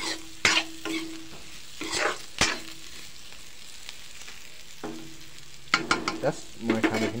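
Pork meat frying and being stirred in a pan, with a steady low sizzle broken by several sharp scraping stirs spaced through the clip, close and moderately loud, no talking.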